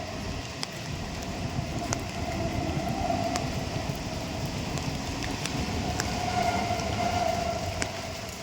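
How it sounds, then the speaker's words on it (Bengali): A train passes by, giving a steady low rumble with regular rhythmic clacks of wheels over rail joints at moderate distance, with no talk. "আর ওই দেখো ট্রেন যাচ্ছে"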